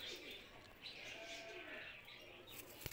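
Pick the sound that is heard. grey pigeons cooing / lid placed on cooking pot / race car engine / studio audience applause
grey pigeons cooing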